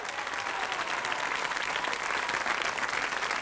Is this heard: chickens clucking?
no